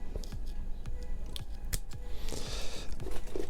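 Scissors or cutters snip through a Honda Hornet motorcycle's wiring loom cable, producing sharp close clicks and crunches at an irregular pace against a low background rumble, with no talking.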